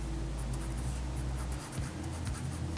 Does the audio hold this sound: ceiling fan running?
no